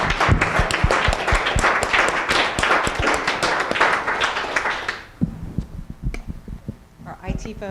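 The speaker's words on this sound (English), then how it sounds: "we'll just clap for you if you don't want" A live audience claps at an interdisciplinary team panel, dense bursts of hand claps filling the room for about five seconds before thinning into a few scattered claps and murmured voices.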